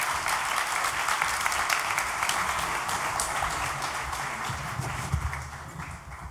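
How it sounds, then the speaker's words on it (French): A seated audience at a French privacy-by-design talk claps for three panelists, a thick, even wash of many hands applauding continuously at steady loudness throughout. "Je vous demande d'applaudir Geoffrey Dorn, Valère Fédronique et Pierre-Yves Thébault."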